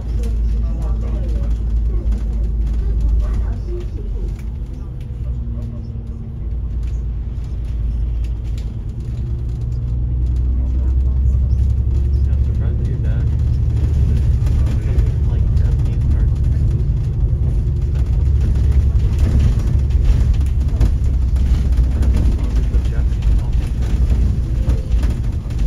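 A double-decker bus climbing a steep mountain road from Central to the Peak in Hong Kong, its engine a continuous loud low rumble that swells slightly partway through, with people talking over it.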